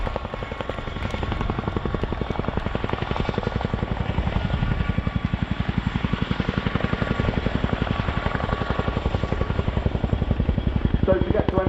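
A helicopter departing backwards at the Royal International Air Tattoo, its rotor chopping in a steady, loud, rapid beat that holds throughout, close by.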